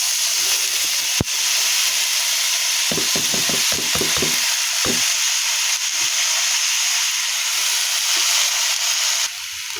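Yardlong beans stir-fried in a small home wok with salt give off a loud, steady sizzle, broken midway by a quick run of scraping stirring strokes, with no voices.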